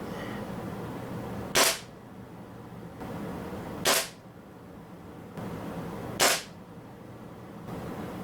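A Benjamin NP2 .22 air rifle fires Crosman Premier Dome 14.3 grain pellets in three separate sharp cracks, evenly spaced and close, over a steady background hiss with no talking.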